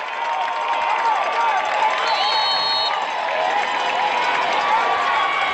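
A large home crowd at a Twiggs County high school football game roars and cheers steadily, a dense loud wash of voices with shrill shouts and whistles filling an indoor building, with no let-up throughout.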